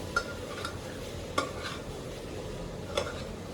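A spoon stirs Manipuri-style pork curry with chili flakes in a pan, making three distinct scraping strokes spaced about a second and a half apart over a soft, quiet sizzle.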